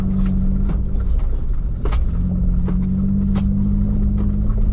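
A Ford Bronco Raptor climbing an off-road trail in two-wheel drive: a loud, close, steady engine drone with a humming tone, and irregular clunks and knocks from the rough ground.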